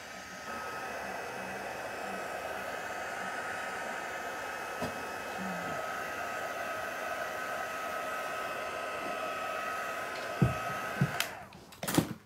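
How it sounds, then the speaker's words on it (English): Electric heat tool blowing a steady stream of hot air over alcohol inks on art journal paper, a continuous loud whooshing hiss lasting nearly the whole span before cutting off with a few handling knocks at the end. "give that a blow around with my heat tool."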